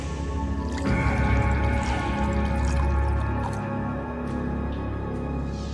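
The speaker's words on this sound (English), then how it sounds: "The magician pours the water into the mug." Liquid pours into a mug, a steady gurgling fill that rises slightly in pitch, with a dull clunk near the start.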